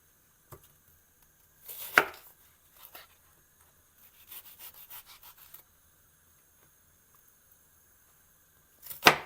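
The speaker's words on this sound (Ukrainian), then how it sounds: "Нарізаю цибульку." A knife chops an onion on a cutting board in a few short bursts of quick taps, separated by quiet pauses.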